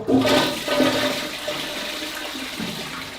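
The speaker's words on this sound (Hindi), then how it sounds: "यहाँ से पानी आएगा, यहाँ से आप फ्लश कर सकते हो" A toilet flushes in an underground bunker, water rushing loudly up close and then settling into a fainter refilling trickle, with no voices.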